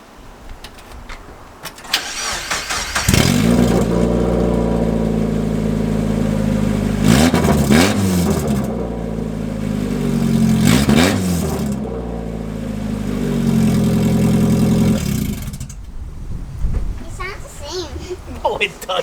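A Mazda Miata with an ISR header-back exhaust starts and revs in short bursts to about 2,000 RPM, a loud, raspy, deep engine note rising and falling nearby, with people talking around it.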